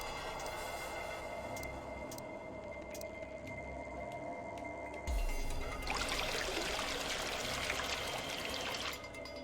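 Water pours into a container in the puzzle game Virtue's Last Reward, a steady splashing rush that swells midway and runs for several seconds over a low game background hum.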